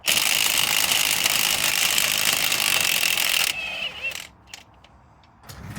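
A ratchet spins a bolt loose at the bottom of a Skoda Octavia Mk3 suspension strut, loud, close and continuous clicking for several seconds before slowing into scattered metallic clicks and a pause.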